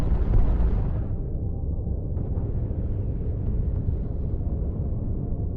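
Weapons fire and explosions in the VR real-time strategy game Battlegroup VR form a continuous, heavy, rumbling barrage of booms and bursts with no talking.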